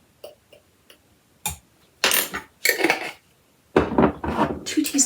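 A measuring spoon tips baking soda into a mixing bowl among cookie ingredients: a few faint early taps, then several louder clattering scrapes and knocks of metal against the bowl, close and without talk.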